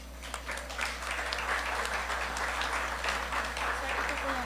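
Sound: audience applause at awards ceremony

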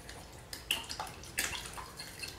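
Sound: stirring buttermilk and water in a bowl

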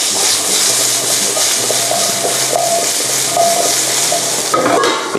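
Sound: pork chop searing and sizzling in a pan

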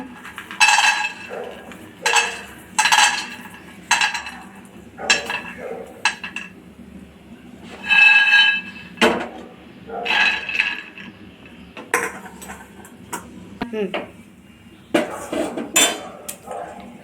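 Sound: roasting peanuts in a pan

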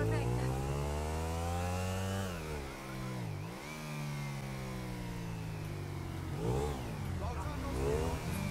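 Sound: motorcycle engine revving in GTA 5 video game

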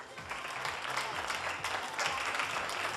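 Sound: studio audience applause for contestant

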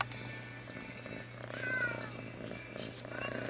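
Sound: cat purring

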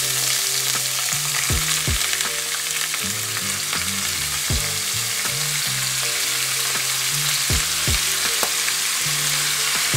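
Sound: shrimp frying in a hot pan

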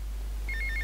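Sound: telephone ringing in video game GTA Vice City

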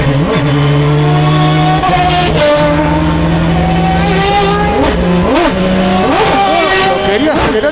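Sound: race car engine accelerating

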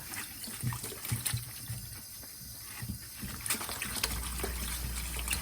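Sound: cucumbers rinsed under running tap water

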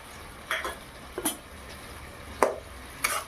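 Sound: stirring khar chhatu with mustard-poppy-green chili paste in pan

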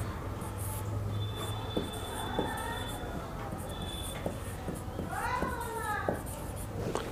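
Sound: teacher writing during a finance tutorial

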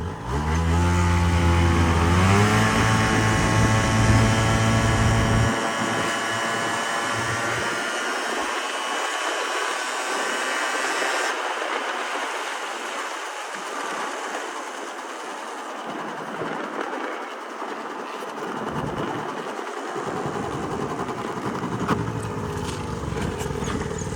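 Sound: Yamaha Jog scooter engine running

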